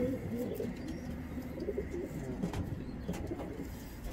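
Low, soft cooing from pigeons repeats close by amid a murmuring flock, with a voice speaking faintly underneath.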